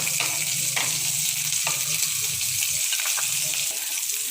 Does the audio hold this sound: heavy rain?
no